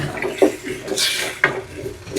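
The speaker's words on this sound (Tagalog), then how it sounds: "Lagyan ko po ng 3/4 cup na tubig. Buhos ko na po." Water poured into a cooking pot while making ginataang kalabasa, with 3/4 cup added in a short splashing burst midway through, preceded and followed by faint clinks.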